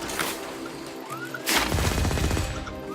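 Loud bursts of gunfire in the Firefall shooter game, with an opening shot, a short pause, then a dense rapid volley of rounds that runs to the end.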